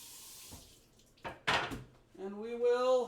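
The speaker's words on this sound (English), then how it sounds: "Let me rinse this off real quick" An item is rinsed under a running kitchen tap while cooking, with short bursts of splashing water and a few clinks, mixed in with brief talking.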